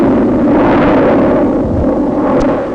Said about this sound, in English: the Skylark rocket thunders into the sky